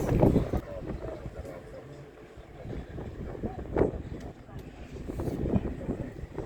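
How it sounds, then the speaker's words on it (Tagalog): Wind buffets outdoors on a boat at Larnaca Marina with rough gusty rumble and microphone noise, rising and falling throughout. "Mahangin sa labas."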